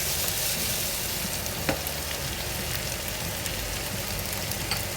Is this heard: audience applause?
no